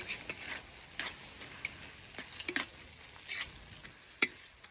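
A lunch dish being stirred in a pan, with soft scraping strokes and light sizzling in short repeated bursts, fairly faint and close, with no talking.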